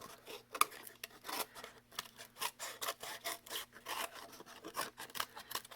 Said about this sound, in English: scissors that don't want to get in there.